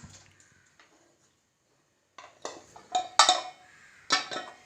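Squeezed paneer is moved from a bowl into a pan, with a few faint taps first, then a cluster of loud metallic clinks and clatters of utensil against cookware, close up.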